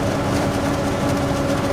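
A combine harvester engine in Farming Simulator 25 drones in a steady, loud, low hum with a constant tonal whine, continuous and unbroken, with no voices.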